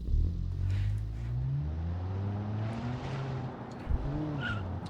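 The Redenno car in Automation is test driven, its engine droning and shifting pitch as it accelerates, with tire squeal and skidding layered over the steady motor noise.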